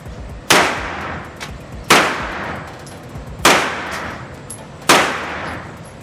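Four loud, sharp gunshots from AR9 pistol-caliber carbines, one direct blowback and one radial delayed, fired outdoors with even spacing of about one and a half seconds, each crack ringing with a metallic clang and a decaying tail.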